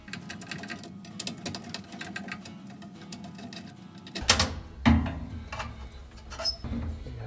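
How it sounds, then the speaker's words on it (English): A 1/4 inch socket removes the screws from a furnace panel, giving close, rapid ratcheting clicks in steady runs, then a few heavier clunks as the screws come free. "This 1/4 inch socket's going to be a little easier."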